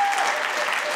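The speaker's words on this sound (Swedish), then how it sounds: "Ska vi ge dem en applåd?" Steady applause from a church concert audience at a Christian event, a dense wash of many hands clapping, loud and sustained throughout without pause.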